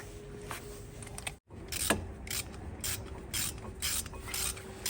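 Ratchet working the front brake caliper bolts on a 2019 Jeep Renegade during a brake pad change, heard as a steady run of close, raspy clicking strokes, with a brief pause near the start.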